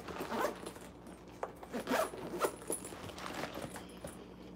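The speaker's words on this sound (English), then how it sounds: "Let me zip it back." Zipper on a small bag being pulled closed, several quick close zipping strokes in short bursts, fairly quiet, with light handling rustle.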